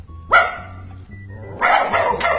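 A voice imitates a dog barking: a sharp yap, a pause, then a longer run of barky yelps, close to the microphone.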